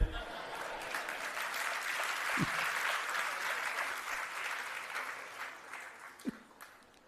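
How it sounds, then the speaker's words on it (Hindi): Clapping rises from a congregation during a Jain sermon at Chandragiri Tirth, Dongargarh, moderately distant and fairly quiet, swelling and fading over a few seconds, with a couple of soft thumps. "आपने दूसरे बार में तालियां बजा दी"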